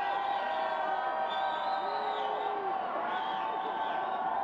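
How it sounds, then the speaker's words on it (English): Crowd at Times Square on New Year's Eve 1999, a steady wash of voices with scattered whoops and whistles, heard at a distance under a constant hum. "bring you more sights and sounds from the crowd"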